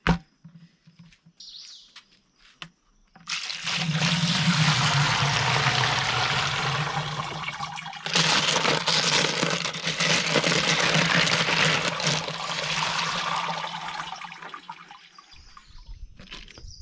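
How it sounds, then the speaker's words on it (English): Tumbled rocks being rinsed in a bucket of water: a loud, steady sloshing and swishing of water and stones that runs for several seconds, dips briefly, then resumes before fading, with no talking. "Now I dip these in a bucket of water, rinse them, and put them back in our tumbler."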